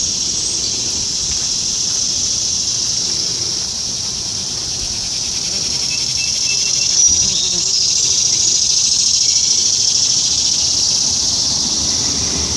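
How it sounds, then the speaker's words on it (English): Bees buzzing around a tomato garden in late morning, a steady high insect drone, continuous and fairly loud and close, with no talking. "It's late morning and the bees are starting to come around."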